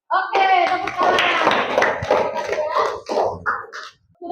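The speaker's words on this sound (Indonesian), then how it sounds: "Oke, tepuk tangan." Hands clap in a classroom as a group of pupils applauds, a dense burst of overlapping claps that fades toward the end, with voices mixed in.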